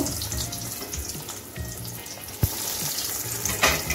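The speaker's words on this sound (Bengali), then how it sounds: "এখন আমি চপগুলো ভেজে নিব।" Fish croquettes sizzle and crackle as they deep-fry in hot white oil over a medium gas flame, with a steady frying hiss and a few sharp pops and clatters nearby.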